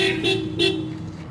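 An Opel Astra H car horn sounds after repair, a steady electric tone with slight pulses, heard close up in a workshop over a low background hum.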